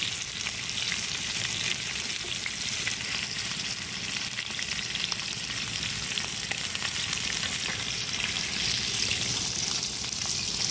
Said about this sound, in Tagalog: 3 minutes natin lulutuin yan, 3 to 4 minutes per each side